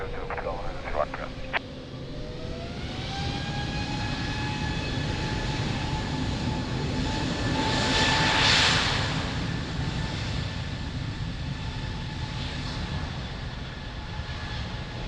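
An airliner takes off from runway 02 at Lisbon Airport with a sustained, distant jet engine roar and a rising whine that swells and then holds steady.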